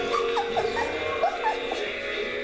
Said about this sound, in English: they are some very beautiful little puppies, though, and very thirsty little puppies